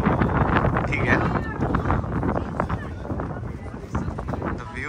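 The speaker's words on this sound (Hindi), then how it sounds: "और क्या तो हवा चल रही है. बहुत तेज हवा है." Strong wind gusts buffet the open-air observation deck at the top of the Empire State Building in New York, a steady loud roar of wind noise across the microphone with voices and crowd chatter mixed underneath.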